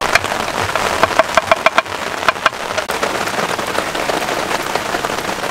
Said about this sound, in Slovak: Začalo nám brutálne pršať